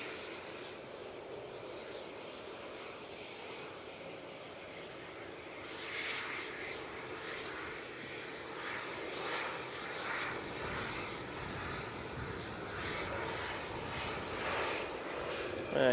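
Fixed-wing aircraft passing over Manchester Airport during a V-Day flyby, a broad steady engine roar at moderate distance that swells slightly as it continues, with no talk.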